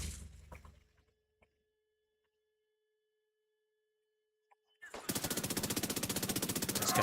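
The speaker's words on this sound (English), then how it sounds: "This guy even shooting to my right?" Rapid automatic gunfire in The Division 2's Dark Zone erupts after a long near-silent stretch, a dense, steady burst of shots that keeps hammering loudly to the end; brief talk opens the scene.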